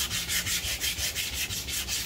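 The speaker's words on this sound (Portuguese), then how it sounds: "vou lixar com a mão." Wooden dresser drawers being sanded by hand on their insides, a steady rhythmic rasp of sandpaper with about eight even back-and-forth strokes, close and clear, with no talking.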